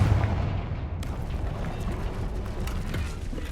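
Explosive Confringo spell blasts in Hogwarts Legacy strike amid dense mechanical rumble and creaking, with low booming bursts landing over a steady, loud game soundscape and no talk.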